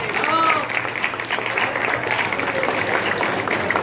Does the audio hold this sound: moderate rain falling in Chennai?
no